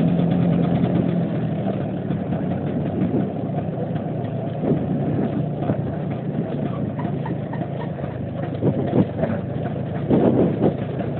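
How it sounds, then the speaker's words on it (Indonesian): Steady mid-pitched engine drone of a Vespa PX scooter ridden on a night road, continuous and fairly loud throughout with slight swells and no talking. "ini jalan malam sama Vespa lagi"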